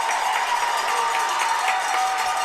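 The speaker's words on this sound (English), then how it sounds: "They're on their feet cheering loud" High school softball fans at a state championship game on their feet, cheering loudly as a steady roar of crowd noise with clapping mixed in.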